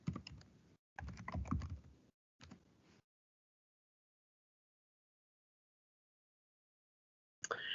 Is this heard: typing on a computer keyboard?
yes